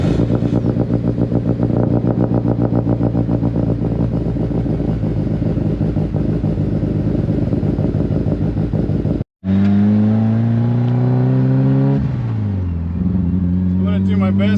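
A Mitsubishi Lancer Evolution engine drones loudly with a steady rumble while the car is driven on tarmac in Florida, then cuts out briefly and returns as it revs and climbs through gear changes.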